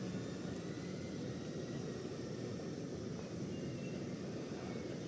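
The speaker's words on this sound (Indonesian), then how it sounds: "Ini di belakang saya drone ya." An FPV drone flies behind a person on a mountain slope near rice fields, its steady whining, buzzing drone continuous and fairly loud throughout with broad wind-like noise, no talking.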